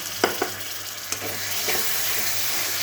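Masala with cashew and yogurt paste stirred in a pan over a low flame, a soft steady sizzle broken by a few sharp scraping taps of the spoon.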